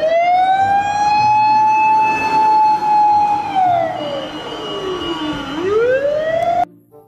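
A toy fire truck sounds a loud electronic siren up close, one long wailing tone that holds, sweeps down and climbs back up before cutting off abruptly.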